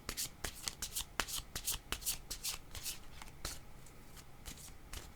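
Tarot cards shuffled by hand in a run of crisp, rapid riffling snaps, close and fairly loud, easing off slightly toward the end.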